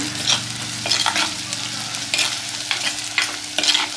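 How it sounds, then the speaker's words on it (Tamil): Onions sauté in a pan for sardine curry, a close, steady sizzle punctuated by repeated stirring scrapes about every half second. "வெங்காயம் கொஞ்சம் நல்லா வதங்கிச்சு."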